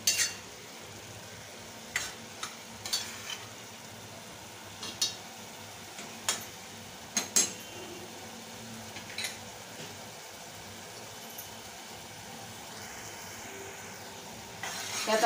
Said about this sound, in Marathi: वेळ लागतो थोडासा मसाला भाजायला कटाचा